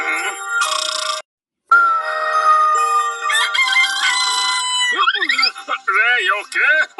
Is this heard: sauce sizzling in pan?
no